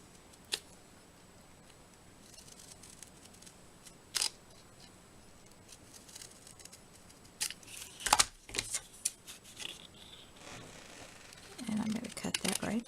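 Hand-held scissors cut through craft paper for an Easter card in a cluster of quiet, crisp snips and rustles. Speech runs alongside.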